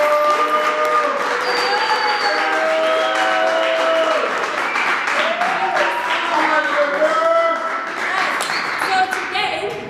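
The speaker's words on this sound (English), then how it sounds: "Please give us a round of applause." A podcast studio audience gives loud, sustained applause, with whoops and voices rising above the steady clapping.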